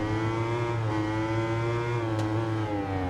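Superbike engine droning steadily at high revs in the Ride 2 racing game at Imola, a constant buzzing whine with a slight pitch dip midway, a rival bike close behind, no talk.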